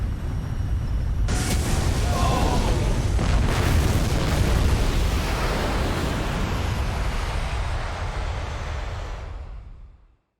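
An emergency landing crash in the video game Bullet Witch ends in a loud, sustained explosive roar. The rumbling blast starts abruptly, holds for several seconds and then fades away to silence.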